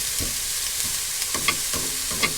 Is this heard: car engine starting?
no